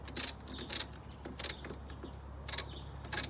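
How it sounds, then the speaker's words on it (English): A ratchet turning a 13mm socket to tighten car battery terminals, giving short, close bursts of crisp clicking with brief pauses between strokes. "I'm just gonna tighten them down. This particular one is a 13mm socket"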